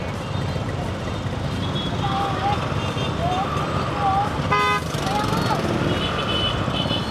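Congested traffic in Divisoria with several short car horn toots sounding over a continuous roadway rumble, one louder horn blast near the middle, and a person talking nearby.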